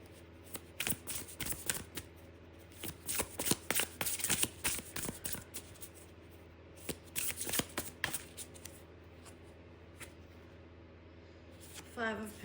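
Tarot cards are shuffled in several quick, crisp bursts of riffling and flicking, close up, with short pauses between rounds.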